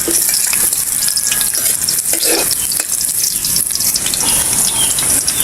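Garlic and onion sauté in hot oil in a pan, a loud, constant close sizzle with stirring scrapes throughout, no talk.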